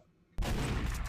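In a video game, after a brief quiet moment, a sudden burst of rapid gunfire erupts and continues loudly, dense and unbroken to the end.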